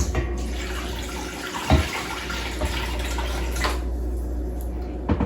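Filtered water pouring into a pot as the base for elderberry syrup, a steady continuous splashing stream that runs close and fairly loud for about five seconds, with no talk over it.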